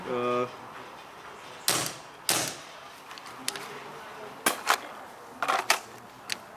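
Airsoft gun firing, several sharp separate cracks spaced irregularly across the clip, mixed with brief talk and a short tonal sound at the start.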